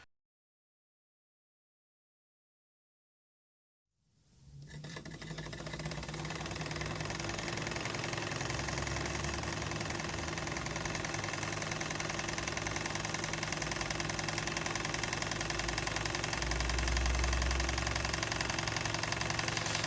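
A Wilesco D16 toy steam engine fitted with a Watt centrifugal governor runs steadily after about four seconds of silence, giving a continuous close mechanical hum and rhythmic chuffing that holds level to the end with no talking.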